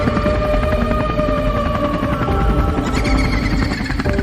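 A cartoon helicopter taking off in an animated horror story, its steady loud rotor and engine drone running continuously throughout without any talk.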